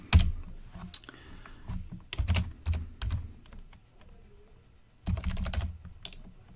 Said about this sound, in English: Blah, typing and stuff.